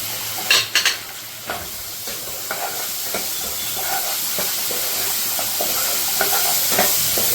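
Fried soya chunks in chili sauce and green sauce sizzle in a pan while a spoon stirs them. A few sharp scrapes and clinks come first, then a steady close sizzle and hiss continues with no voices.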